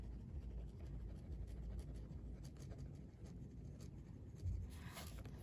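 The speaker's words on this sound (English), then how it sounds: "I want to write that down." A pen scratches steadily across paper while a dinner plan is written into a planner, with continuous soft strokes and brief pauses over a low background hum.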